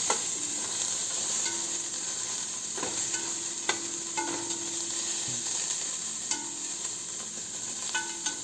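Onions fry in a pan, browning on the bottom, with a steady close sizzle throughout and repeated light clicks and scrapes of a utensil stirring them.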